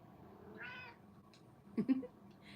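A mother cat gives a drawn-out meow followed by a pair of short, sharper mews, close and fairly quiet over a low background hum, with no talking.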